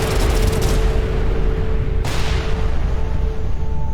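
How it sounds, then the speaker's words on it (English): Explosions destroying derelict ships in the space game Everspace 2: loud continuous rumbling blasts with a sharp new burst midway, dense and booming, no talk. "Explosions galore"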